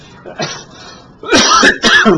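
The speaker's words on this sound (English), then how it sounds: "I'm going to have to stop and cough here" A person coughs up close, with a soft throat-clearing rasp followed by two loud, harsh coughs in quick succession.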